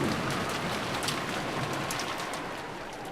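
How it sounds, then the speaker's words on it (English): Heavy rain pours steadily in the visual novel game Umineko When They Cry, a dense hiss of drops pattering on surfaces with no voices. "It's raining, it's pouring."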